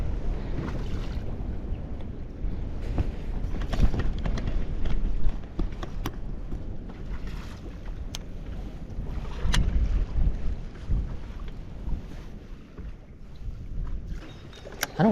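Wind gusts roar across the microphone on a lake in Minnesota's northern wilderness while fishing from a boat, with constant low buffeting, water slapping against the hull and occasional knocks.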